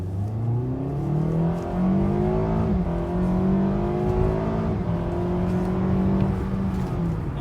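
A 2015 Acura TLX with the 2.4 engine and dual clutch transmission accelerating in sport mode, its engine note climbing steadily before dropping sharply at quick gear shifts, then rising again, heard from inside the cabin.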